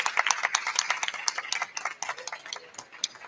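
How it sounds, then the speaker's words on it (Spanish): Scattered, uneven handclaps from a small audience at a live podcast recording, a brief ripple of claps rather than a full ovation. "Un fortísimo aplauso."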